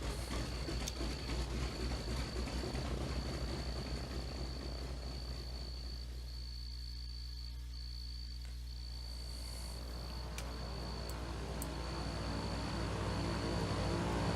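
A propeller plane engine in Kerbal Space Program drones steadily at full throttle, with a constant buzzing tone and a whining pitch that holds throughout, its texture shifting slightly midway.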